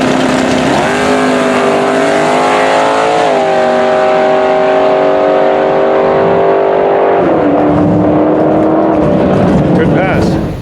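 Super Gas Roadster, a short-wheelbase dragster, making a drag strip pass, a loud sustained engine drone holding pitch with a couple of shifts, heard under excited announcer talk.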